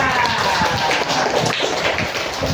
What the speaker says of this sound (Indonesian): baik, tepuk tangan buat semuanya.